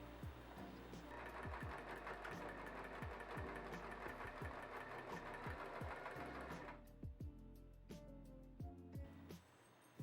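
A sewing machine stitches a book sleeve made from old clothes in a fast, even mechanical chatter close by. The needle run stops near the end, leaving a few scattered clicks and knocks.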